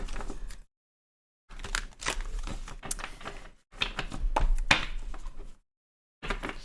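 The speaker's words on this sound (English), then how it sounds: "Just give it a good shuffle." A deck of tarot cards is shuffled in several close, brisk bursts of rapid clicking and fluttering, separated by short silent pauses.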